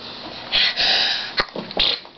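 A single close sneeze bursts out, preceded by a sharp intake of breath and followed by faint breathy sounds.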